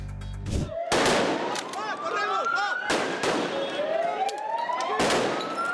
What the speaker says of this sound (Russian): Взрыв петард и свист резиновых пуль.